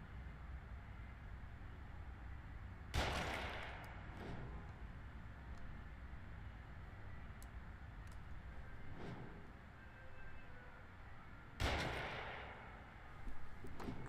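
Two sharp gunshots ring out in The Evil Within, a few seconds apart and fairly distant, over a low ambient rumble with faint intermittent clicks.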